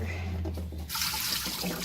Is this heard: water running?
yes